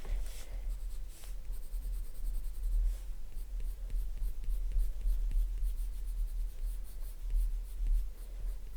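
Polychromos colored pencil drawing on paper, shading blond hair: steady, close scratchy strokes that continue without a break, with no talking.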